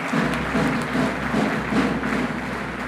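Audience applause at an academic investiture ceremony for a new president and chairman of council, a steady wash of clapping that holds evenly for a few seconds in a large hall.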